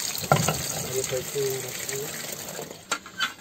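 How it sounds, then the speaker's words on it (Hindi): Peeled raw mangoes are rinsed under running water, a splashing, gushing stream near the microphone with a few clattering knocks toward the end. "इसको हम पानी से अच्छे से हम धो लेंगे छील कर"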